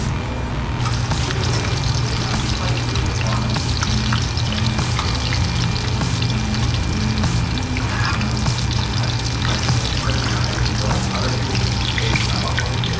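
Fish fries in a pan with a loud, steady sizzle that runs unbroken throughout, close by, with faint kitchen clatter underneath.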